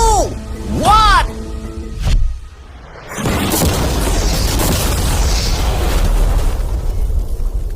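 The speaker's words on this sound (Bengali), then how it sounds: "বিস্ফোরণটা এত জোরে হয়েছে যে ভিতরের ম্যানিকুইন গুলো ছিটকে এদিক ওদিকে বেরিয়ে গেছে।" An ordinary car packed with mannequin passengers blows up in a deliberate outdoor detonation: a huge, close booming blast after a brief swelling tone, followed by a long roaring rumble and debris noise.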